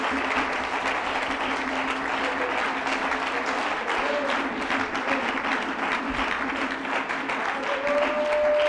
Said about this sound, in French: Aidez-moi à donner une acclamation au Seigneur.